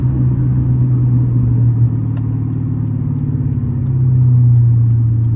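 Engine of a Dodge Challenger SRT 392 Scat Pack while driving through city streets, a deep steady low rumble from inside the car that swells slightly near the end, loud and continuous with no talk.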